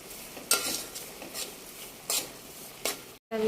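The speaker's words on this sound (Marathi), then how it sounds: "पुन्हा हलवून थोडा वेळ व्यवस्थित एकजीव करून घ्यायचं आहे" A spoon stirs gajar halwa in a pan after sugar has gone in, giving several separate scraping strokes with a soft sizzle running underneath, then a brief gap of silence near the end.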